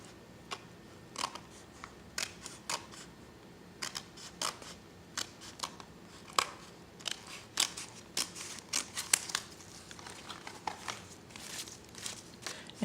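Scissors snip paper for a handmade junk journal in a quiet room. Short, crisp cuts come one after another in an irregular rhythm, close and soft, with no talking.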